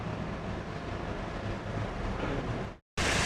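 Minced meat with fried okra sizzles in oil over high heat, a loud, steady, close frying hiss that cuts out abruptly for a moment near the end before resuming.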